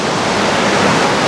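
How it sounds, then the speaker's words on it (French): A waterfall cascading right beside a bridge in La Gacilly, a loud, close, steady rush of falling water with no talk over it. "vous devez entendre vachement l'eau, la cascade qui est juste là, évidemment"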